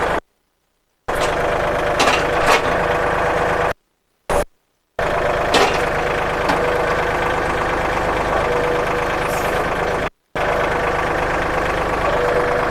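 A Kubota L3608 tractor's diesel engine runs steadily at idle with a low, even rumble and a faint knocking beat, close by and continuous apart from a few brief cuts to silence.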